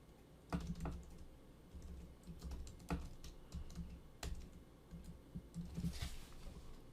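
A host name goes in on a computer keyboard with quiet, irregular key taps and a few sharper clicks close to the microphone, over a low background hum.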